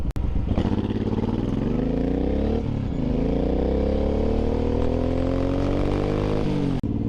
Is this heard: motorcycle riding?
yes